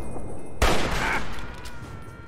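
A single burst of gunfire from a weapon in the video game Fallout 3, one loud sharp report followed by a decaying tail, with no talk over it.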